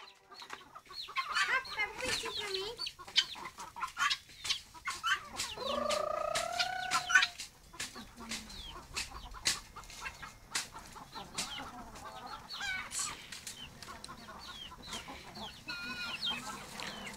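Chickens cluck and squawk close by in a farmyard, with one drawn-out squawk in the middle, amid scattered rustles and faint voices.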